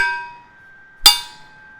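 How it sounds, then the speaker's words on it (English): A ringing metallic tone fades out, then a single sharp strike on a metal lid rings again with a bright, lingering resonance. "I have myself a lid to a press that I have, and a wooden spoon."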